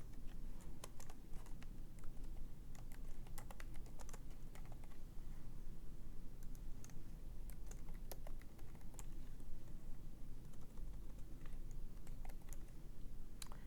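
Keys clatter steadily on a computer keyboard as a street address is typed in, a close, continuous run of quick taps with a faint background hum and no voices.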